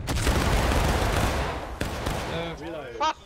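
A volley of rifle fire from a line of soldiers in a war video game erupts as a loud, dense crackle of overlapping shots, followed by a sharp crack and shouted voices.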